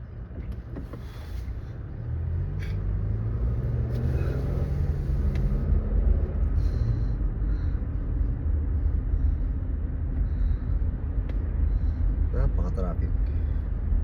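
Heavy road traffic hums and rumbles continuously as vehicles idle and move nearby, a steady low engine drone with occasional louder passes.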